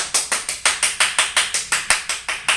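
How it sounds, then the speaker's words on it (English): A small group claps for a wife in a home kitchen, about fifteen quick, even hand claps in a brisk steady rhythm, close and loud, with no voices. "let's give a big round of applause to the person without whom this wouldn't be"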